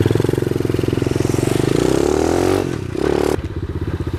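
A 2024 SK 110 Pro mini trail motorcycle with a 110 cc engine revs up close and loud, its pitch climbing steadily before dropping briefly at a gear change and pulling again.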